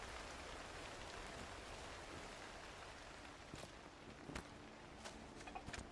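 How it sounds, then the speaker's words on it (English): Steady rain in the video game Cairn hisses evenly throughout, with a few louder drip-like taps and soft thuds breaking through toward the end. "We'll see if we can get this rain to stop for us."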